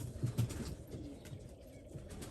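Pigeons cooing close by, low repeated coos loudest near the start and softer ones continuing over faint background noise.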